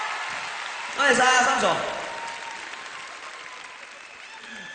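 A concert audience at Hong Kong Coliseum bursts into loud applause, a dense swell of clapping that peaks briefly then fades into a lingering crowd murmur, with a performer speaking over it.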